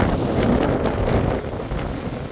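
Cold wind blows outdoors near a boat in the Czech Republic, a steady, close rushing buffet of wind noise across the microphone, loud and unbroken for a couple of seconds.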